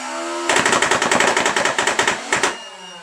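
A red electric Rival airsoft replica fires one long rapid burst, then a short second burst, in sharp mechanical clatters close by, with no talk.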